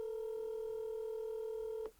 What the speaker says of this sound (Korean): 전화를 걸어볼게요.